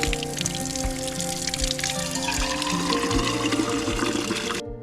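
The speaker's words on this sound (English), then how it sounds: "We just found this mountain spring, so we're gonna refill our water bottles here." Mountain spring water running and splashing into water bottles during a refill stop, a steady close trickle and gurgle that continues throughout before cutting off at the end.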